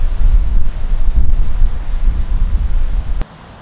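Wind buffets a large windscreen on a camera-mounted microphone outdoors, a loud low rumbling roar that surges and gusts continuously before cutting off abruptly near the end.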